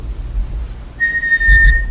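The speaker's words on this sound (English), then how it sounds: "Then you can just fade the word sit and only use the whistle cue." A single high, steady dog-training whistle blast sounds close and clear for about a second as a sit cue, over a faint low background rumble.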